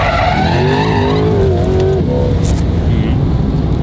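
Corvette C8 sliding sideways through a corner, tires squealing and skidding in a wavering high whine over engine roar, then fading to rumble as the slide ends.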